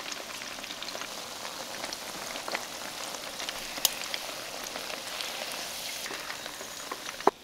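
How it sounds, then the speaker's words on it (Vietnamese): Steady, crackling sizzle of quail frying in hot oil, a dense continuous hiss with scattered sharp pops, no voices. "Canh chiên đến khi phần da cút lên màu nâu óng như thế này là mình vớt ra nhé"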